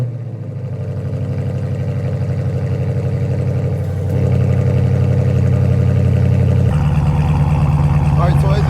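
Dodge Charger Scat Pack with mid and rear muffler delete, cold-started and idling: a loud, steady low rumble with dense pulsing that jumps up in level partway through as the fast idle settles in, no talking.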